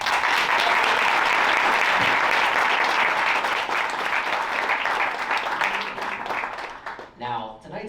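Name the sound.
audience applause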